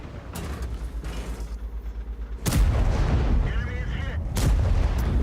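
Tank cannon shots in World of Tanks during a clash with a Tier 9 German E75, heard as heavy booming blasts: one sharp report early, a louder hit near the middle and another toward the end, over a constant engine rumble.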